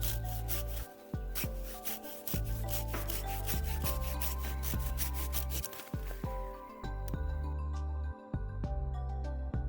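Folding Japanese Silky F-180-7.5 hand saw, with teeth too large for the job, cutting through dry wood in steady back-and-forth strokes, rasping loudly and close, with brief pauses between runs of strokes.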